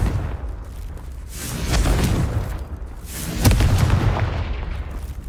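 Confringo spell blasts in the Hogwarts Legacy video game boom out as loud, deep explosive bursts that rise and roll on, one swelling mid-clip and a sharper crack following.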